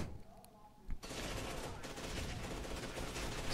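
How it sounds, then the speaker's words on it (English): Sustained automatic gunfire in the video game F.E.A.R. 2, a dense, continuous rattle of shots that starts abruptly after a quieter moment and stays loud throughout. "So I'm shooting those bastards."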